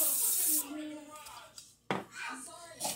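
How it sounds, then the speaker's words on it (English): Short hissing bursts of cooking spray misted into a bundt cake pan in a home kitchen, close and fairly loud, with pauses between sprays. "I'm just going to spray it with some Pam"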